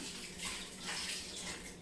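Plain water pours into a cooking pot on the stove, a continuous close splashing rush that swells and eases slightly across the moment, with no voices.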